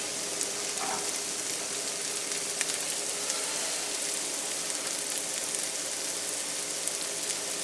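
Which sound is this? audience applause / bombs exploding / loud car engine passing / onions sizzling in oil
onions sizzling in oil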